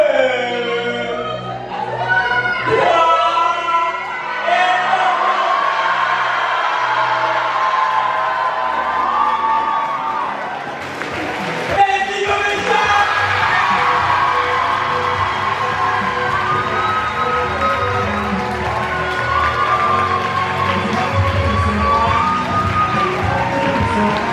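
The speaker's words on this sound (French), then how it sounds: "Et à 3, on crie tous Eloquentia." Crowd at the Eloquentia Nanterre 2022 speaking-contest final shouting and cheering together, a loud sustained roar of many voices that swells after a brief pause and carries on under music.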